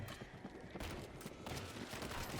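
Dense gunfire from the World War Z video game plays for the whole stretch as a steady, loud barrage of overlapping shots with no clear gaps.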